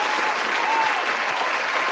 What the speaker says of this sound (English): it's only right he gets that applause